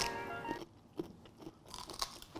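A raw Brussels sprout is bitten into, giving a few sharp crisp crunches close to the mic over a faint background hum, with no talking.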